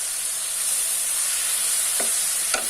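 Tomatoes being stirred into a simmering long beans and coconut curry, a continuous close sizzling hiss in the pan with two faint scraping taps near the end.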